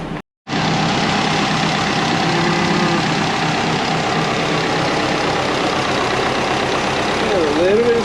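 A built Subaru EJ20 engine runs in a Forester at a steady idle, loud and close, after a brief silence at the start, with a faint whistling tone rising near the end.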